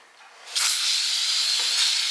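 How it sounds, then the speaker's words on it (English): Brake cleaner sprays from an aerosol can onto a junkyard Toyota 2JZ engine part, a close, continuous hiss that starts abruptly and holds steadily for over a second. "And then I'll clean it one last time with some brake cleaner."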